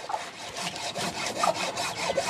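A steel hacksaw works through a hard coconut shell being shaped into a souvenir cup, giving a close, rhythmic rasping of quick back-and-forth strokes with no voices.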